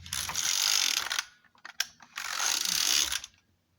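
A knitting machine carriage sweeps across the bed twice in long, loud, rushing passes. Between the passes comes a short cluster of sharp clicks as the stitch size dial is turned.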